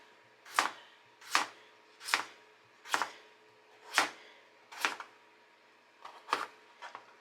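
A knife cuts through potatoes on a board: about nine sharp, evenly spaced chops, close and distinct against a quiet background, with a few quicker strokes near the end.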